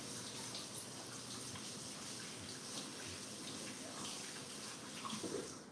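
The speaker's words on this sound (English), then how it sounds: "I'm gonna wash my hands real quick." Water from a kitchen tap runs steadily while hands are washed, a constant close hiss and splash with no talking, holding even in level throughout.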